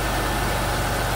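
A 2000 Buick LeSabre engine runs steadily at idle, a dense, even mechanical hum and whir heard up close with no breaks.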